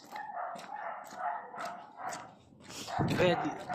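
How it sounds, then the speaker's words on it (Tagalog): Dogs bark a few times at a distance in Szentendre, Hungary, faint yips under nearby chatter and street noise, with a louder rustle of voices toward the end. "May mga aso guys."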